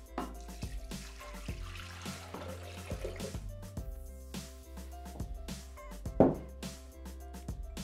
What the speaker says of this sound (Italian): versiamo l'acqua all'interno del boccale